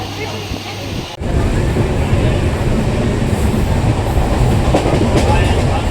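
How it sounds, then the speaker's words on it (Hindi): A train arrives at an Indian railway station with a sudden loud roar of wheels and carriages rumbling steadily past, close and continuous after a quieter platform ambience. "तो ट्रेन आ चुका है।"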